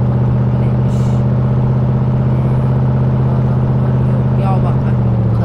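A Volkswagen Golf driving in the video game CrimeLife 3 gives a loud, steady low engine drone that hums evenly throughout without pauses.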